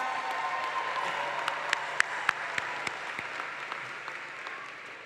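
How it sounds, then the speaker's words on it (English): A crowd at a university graduation ceremony applauds steadily, a dense patter of clapping with a few sharper claps standing out, at moderate volume throughout. "Can we give these young people a round of applause?"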